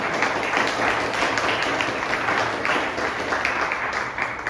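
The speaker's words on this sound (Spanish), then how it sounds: "Un aplauso al Señor." A church congregation claps together in praise during a sermon, a steady, fairly loud patter of many hands filling the room with no speech.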